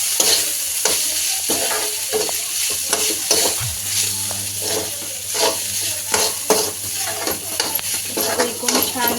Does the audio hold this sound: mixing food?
yes